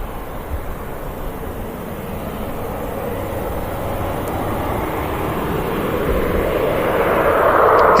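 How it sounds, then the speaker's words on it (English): A jet airliner, an Embraer, passes at Manchester Airport, its broad engine roar steady and close, swelling gradually louder toward the end with no voices. "There goes that Embraer."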